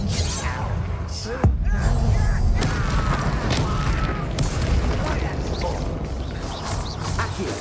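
Fiery spell blasts and clashing impacts in a Hogwarts Legacy wizard duel, with a sharp crack early on followed by a steady roaring, crackling barrage that fills the whole stretch.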